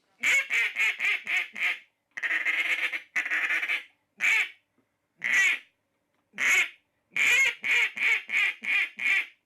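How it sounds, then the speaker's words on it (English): A handmade duck call is blown close and loud in bursts of rapid quacks, from quick five-note runs to drawn-out honks, ending with a lonesome duck call sequence, no talking over it. "And that last one was a lonesome duck call."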